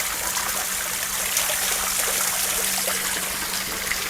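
Filtered water pours steadily from a pipe outlet after passing through a single-cylinder filter, a continuous close trickling gush with an even level throughout and no talk.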